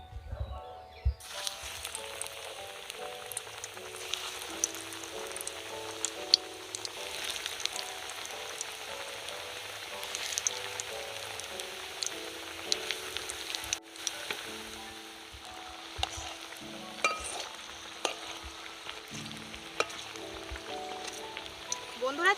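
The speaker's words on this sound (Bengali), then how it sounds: "এবার আমি চপগুলো ভেজে নেব।" Mutton fat chops deep fry in hot oil, giving a quiet, steady sizzle with light crackling pops spread through the clip. The sound stays fairly faint and even throughout, with low background rumble.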